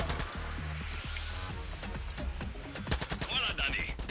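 Rapid bursts of gunfire crackle through a busy Far Cry 6 game soundscape, with a steady music bed underneath and sharper shots near the end.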